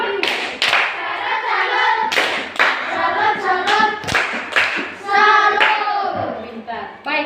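Children in a classroom clap through the tepuk salut routine, a run of sharp handclaps in bursts with young voices chanting along throughout.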